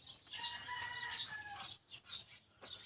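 An imported bantam chicken, a small breed, gives a sequence of bright, high-pitched clucks and squawking calls, close by, fairly continuous for about two seconds and then in shorter bursts, with no talk over it.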